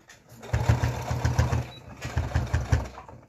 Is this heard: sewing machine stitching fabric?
yes